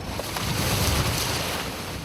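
Rough open sea between Marado and Gapado islands, known for high waves and strong currents, heard as a steady broadband wash of surf and wind roar with low rumble, continuous and loud throughout, no voices.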